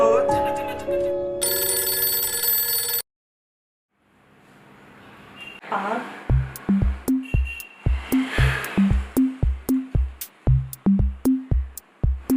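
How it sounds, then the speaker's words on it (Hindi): A phone rings in a steady repeating pattern of short electronic tones after a burst of music and a brief pause, with faint background noise. "रोहित, क्यों फोन किया तुमने मुझे आज?"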